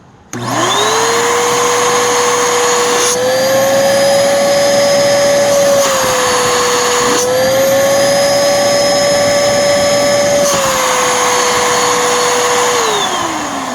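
Bissell Powerforce Helix upright vacuum, recovered from water damage, spins up with a rising whine and runs loud and close at a steady high pitch, its tone shifting slightly a few times before winding down.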